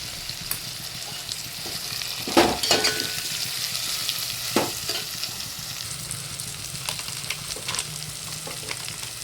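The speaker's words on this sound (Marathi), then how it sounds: "आता टोमॅटो टाकून घ्यायचे परतून चांगलं" Tomatoes and a little turmeric are sautéed in a pan, with a continuous frying sizzle and a few scraping stirs of a spoon standing out close up, with no talk.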